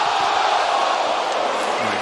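Arena crowd at an AEW wrestling event rising to its feet and cheering, a dense, steady roar filling the space throughout.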